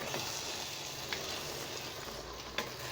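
Chopped red pepper sizzling steadily in a hot pan for okra tagine, a soft continuous frying hiss with a couple of faint clicks, no talking.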